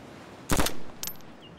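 Gunfire in the video game DayZ: one loud, close burst of two or three rapid shots, then a fainter, shorter report a moment later, with no talking.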